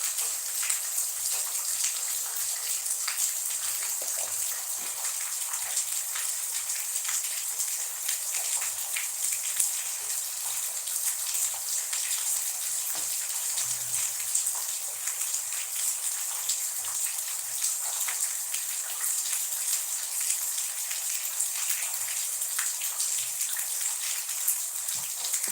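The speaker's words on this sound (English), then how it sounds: "It's raining." Rain falls steadily outside a veranda, a continuous soft hiss of drops that stays even throughout, with no voices.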